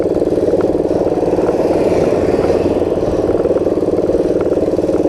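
A Honda PC50 moped's small engine labours up a steep hill, a loud, steady, pulsing drone with rapid mechanical clatter held close throughout.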